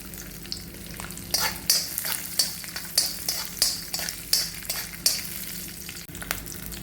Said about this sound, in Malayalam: ഞാൻ ഇച്ചിരി ക്യാഷിനട്ട് ഇച്ചിരി കപ്പലണ്ടി ഇച്ചിരി കരിയാപ്പലയും കൂടെ അതിനകത്ത് ഇട്ട് കൊടുക്കുവാണ് എന്നിട്ടൊന്ന് ജസ്റ്റ് മൂപ്പിച്ച് കൊടുക്കുവാണ്